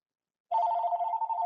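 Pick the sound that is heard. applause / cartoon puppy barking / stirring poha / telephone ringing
telephone ringing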